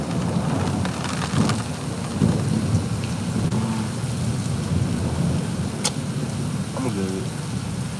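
Thunderstorm with steady heavy rain falling outdoors, broad continuous noise with rolling thunder rumbles, close and loud, a voice talking briefly in the background.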